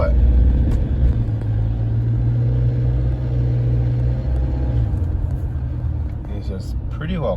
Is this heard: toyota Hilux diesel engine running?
yes